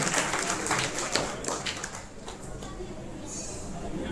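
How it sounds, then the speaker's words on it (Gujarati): Crowd applause greets honoured students at a Barot community student award ceremony in Jamnagar, dense clapping strongest at first, then thinning and fading into a quieter hall murmur. "જોરદાર તાળીઓથી વધાવી લ્યો"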